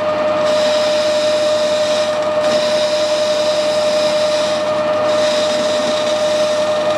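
Metal lathe cutting toward a shoulder on a workpiece, giving a steady continuous machining whine with a fixed tone and brief dips, close and loud throughout, with no talking.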